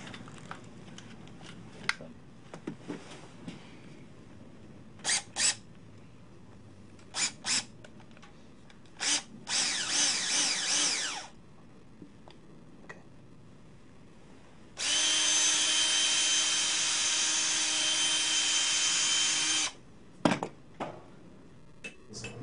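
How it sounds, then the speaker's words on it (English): Several short bursts from a power drill between scattered knocks and clicks, then one long steady drilling run of several seconds before quieter tapping resumes. "Give me a drill and a bit."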